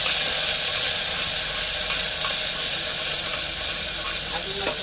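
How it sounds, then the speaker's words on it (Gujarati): Hot ghee tempering sizzles loudly in a pressure cooker, a dense, steady crackling hiss heard up close from start to finish. "જોઈ લો કુકર કડકડાટી બોલાવી દીધી છે"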